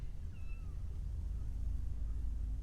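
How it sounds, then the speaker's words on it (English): Small kittens give a few faint, thin meows over steady low background rumble in a quiet indoor space. "Little kittens."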